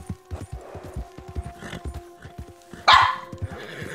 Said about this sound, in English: Don't bark at me.